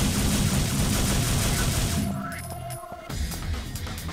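Rapid gunfire from a character's guns in the action video game Devil May Cry, fired during a timed battle against a swarm of enemies, dense and loud with a short lull before the shots resume.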